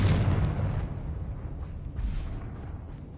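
A Confringo fire spell bursts in Hogwarts Legacy: one loud, booming explosion at the start that rolls off into a rumbling decay, with battle ambience trailing behind.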